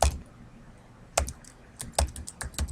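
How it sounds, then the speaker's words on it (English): A web address tapped out on a computer keyboard: sparse clicking keystrokes, a single press, a pause, then a quicker run of several taps, close and fairly quiet. "I'm going to type"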